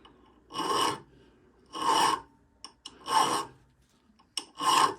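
Hand file sharpening a chainsaw chain on the bar, four slow, even rasping strokes close by, with small taps between them.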